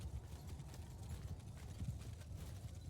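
Horses' hooves drumming in a cavalry charge in the Mount and Blade 2 Bannerlord video game, a dense, low, continuous thundering clatter of many galloping horses, with scattered battle noise over it.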